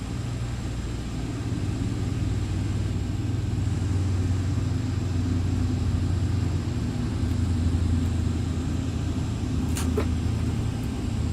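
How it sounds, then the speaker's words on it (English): Boeing 767 jet engines spooling down in the flight simulator X-Plane, a steady low rumbling drone with a broad roar above it, continuous and fairly loud throughout with no talk. "The sound of the engines and the phasing is just not good."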